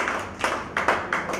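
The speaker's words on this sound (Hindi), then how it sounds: "तालियां बजाते रहें आप तालियां बजा रहे हैं" A small audience at a Hindi literary gathering claps in brief, uneven bursts, faint and somewhat distant, with no voices over it.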